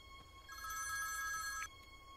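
A telephone rings late at night in an Indian action film scene, one steady electronic ring burst lasting about a second over a quiet low hum, with no voices.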